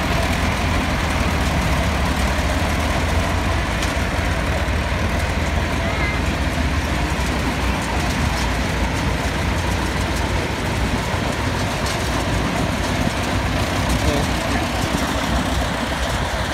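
A tractor loader engine straining during pistachio threshing and sieving work, a continuous loud, rough low rumble that stays dense and steady throughout, with faint voices mixed in.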